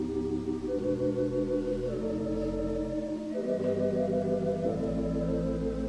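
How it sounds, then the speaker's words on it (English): A rich pipe organ tibia flute stop with a pronounced tremolo throbbing through a continuous stream of sustained chords, full and resonant, with no voices. "What makes it really unique is when you add a tremolo to it,"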